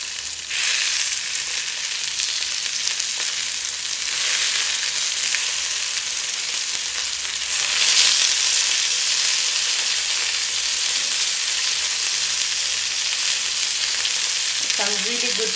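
Chicken pieces browning in a hot frying pan give off a loud, steady sizzle that runs unbroken throughout, with a brief swell partway through and a few light utensil clicks near the end.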